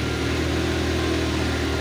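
Motorcycle engine idling with a steady, loud, low throb close by, held unchanged for the whole short stretch, with no talk over it.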